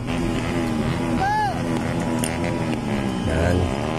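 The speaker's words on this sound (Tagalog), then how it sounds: "Ikot-ikot lang po yung mga tricycle dyan at saka yung mga motor." Engines of tricycles and motorcycles circling past at a New Year street celebration, a steady close motor drone with a passing horn-like tone, under voices.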